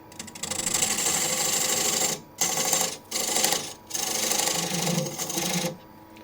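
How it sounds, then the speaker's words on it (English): A 12mm scraper cuts a groove inside a wooden bowl spinning on a lathe, giving a loud, steady scraping rasp in long passes broken by a few short pauses. "for the groove inside, I'm going to use this 12mm scraper"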